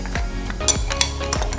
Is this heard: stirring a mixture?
yes